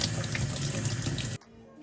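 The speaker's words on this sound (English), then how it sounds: "To rinse it under cold water." Cold tap water runs steadily over an aubergine being rinsed in a kitchen sink, a close, full splashing rush that cuts off abruptly near the end.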